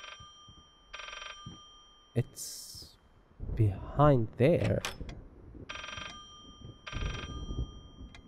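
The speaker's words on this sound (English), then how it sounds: "there is the fucking phone" An old-style telephone bell rings inside the horror game Layers of Fear, sounding in four evenly spaced bursts of harsh trilling, with someone talking and exclaiming loudly in the gap between them.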